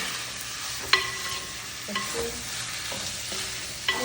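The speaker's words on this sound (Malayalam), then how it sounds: "രണ്ട് തക്കാളി ഇട്ടു ഇനി ഇതൊന്ന് വഴക്കണം" Tomatoes tossed with curry leaves in hot oil in a pan while cooking a fish curry, a steady sizzle broken by a few sharp scrapes and clacks of the stirring spoon, close and alone.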